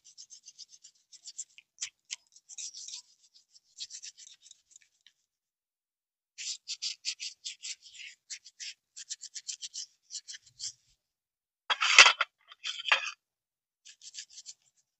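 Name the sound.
scrubbing conch shell bangles with white Colgate toothpaste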